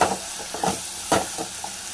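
Tomatoes with rock salt sautéing in a pan, a few distinct spatula stirs and scrapes over a soft sizzle, close and brief, without talk.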